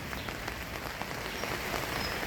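Rain falls steadily in rural Pathum Ratchawongsa, Amnat Charoen, a soft continuous patter of drops on surfaces, faint and even throughout with no voices.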